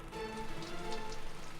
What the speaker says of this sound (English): as there are reports of rain